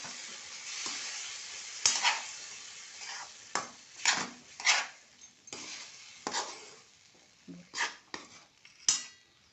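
A spoon stirring ghugrya, a sprouted grain dish, in a pan, with soft scrapes and clinks in irregular bursts over a quiet background.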